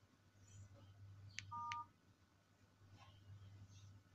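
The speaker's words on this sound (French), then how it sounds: "je prends mon téléphone, je compose." Mobile phone keypad tones from dialing a code to unlock a handset, two short separate beeps followed by a brief double tone, faint against a steady low hum in a quiet room.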